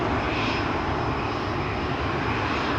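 A Boeing 787 Dreamliner's jet engines roar loudly and continuously at the Amsterdam Schiphol runway, a dense, steady wash of engine noise close by.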